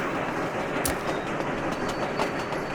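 Passenger train running in the Sweet Transit video game, a loud continuous rail rumble with clickety-clack wheel beats and occasional sharp clanks, steady throughout with no talk.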